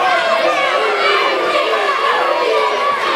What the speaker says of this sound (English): Listen to this crowd, Kimmy.